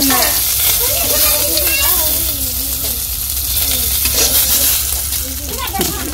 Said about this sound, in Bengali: দিদির মাছ ভাজা প্রায় হয়ে গেছে, মাছগুলো নামিয়ে নিতেছে।